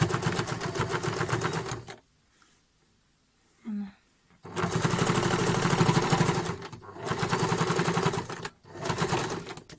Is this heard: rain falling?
no